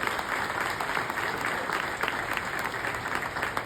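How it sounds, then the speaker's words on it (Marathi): Applause from an audience at a program in a village, a dense, steady roar of many hands clapping together that lasts the whole stretch without pause. "एकदा जोरदार टाळ्या झाल्या पाहिजे"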